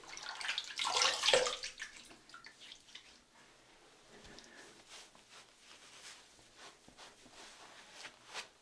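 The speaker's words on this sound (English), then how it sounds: "let's have a rinse, see how we did" Water splashing as a face is rinsed after shaving, a brief louder splash burst followed by softer dripping and trickling sounds.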